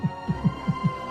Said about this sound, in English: of all the combined heartbeats that are going at different moments.